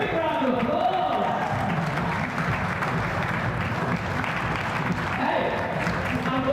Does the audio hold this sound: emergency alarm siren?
no